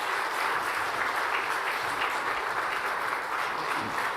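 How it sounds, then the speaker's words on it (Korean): A church congregation gives welcoming applause as a visiting professor and elder come forward, steady crowd clapping with a lively, continuous texture and no speech over it. "우리 교수님 나오실 때, 장로님 나오실 때 환영의 박수 하겠습니다."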